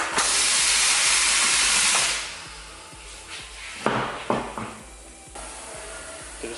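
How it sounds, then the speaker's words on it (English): Compressed air blasts a mud-terrain tyre (Atturo Trail Blade M/T) onto the bead of a Fuel off-road rim for an Isuzu MU-X: a loud, steady rushing hiss for about two seconds, then a few sharp pops and bursts as the bead seats. "now I'll pop it off the machine and blast it onto the bead"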